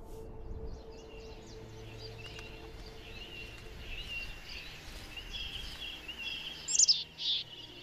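Birds chirp and sing faintly in an outdoor setting, with scattered high calls over a quiet background hiss and a couple of louder, nearer chirps toward the end.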